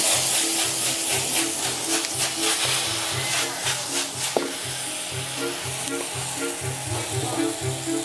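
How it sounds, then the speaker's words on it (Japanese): Boiled udon noodles stir-fried in oil for a Japanese-style yaki udon, with a steady loud sizzle and repeated scraping stirs of the spatula, plus a sharp clink partway through. "茹でたうどんを油で炒め、味付けは日本風"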